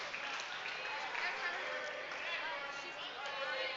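Crowd at a provincial lead and top rope climbing competition final applauds a climber on his way down, faint steady clapping with murmuring voices mixed in.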